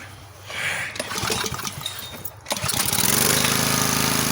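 A wood splitter's small engine, fitted with a replacement carburetor, cranks with a few rough pulls on a cold start, then catches at about two and a half seconds and runs loud and steady up close.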